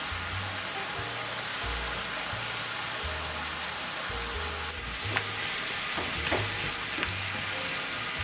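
Vegetables for a shepherd's pie fry in a pan over a built-up crust, giving a loud, steady sizzle with a few scraping stirs and light clatters toward the end.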